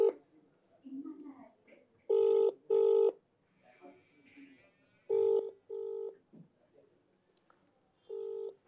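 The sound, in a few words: telephone call dialing on speakerphone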